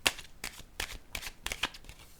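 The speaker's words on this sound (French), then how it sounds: "Là, je vais déposer une carte ici." Tarot cards handled on a table during a reading: a series of about six soft, crisp card slaps and flicks at an uneven rhythm, close and fairly quiet, with no talking.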